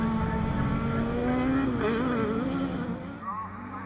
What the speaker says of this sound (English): Cars make their way across the loose surface once again.